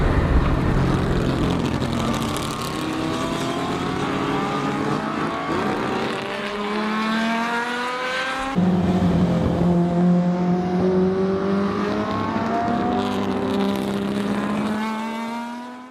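A Ferrari 275 GTB4's 3.3-liter, 300-horsepower quad-cam V12 runs loud and close, its pitch climbing under acceleration, dropping sharply at a gear change, then rising again as the revs build.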